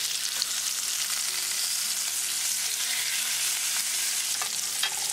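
Flipped salmon fillets pan-frying, a loud continuous sizzle filling the clip with a few spatula clicks, no voices.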